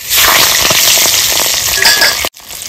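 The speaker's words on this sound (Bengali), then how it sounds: "তেলের পরে আমি দিয়ে দেবো এই যে খাসির চর্বি" Mutton fat hits hot oil already holding whole spices like chilli, cinnamon, cloves, cardamom and cumin, erupting in a loud, close, dense crackling sizzle that runs steadily before cutting off abruptly near the end.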